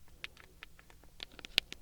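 Buttons on a small handheld keyboard click close to the ear in an uneven run of short, crisp taps, with one sharper, louder click near the end.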